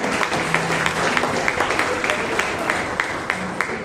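Audience clapping at a church New Year fellowship prayer meeting, a steady patter of many hands with sharp individual claps, with some talking and background tones mixed in.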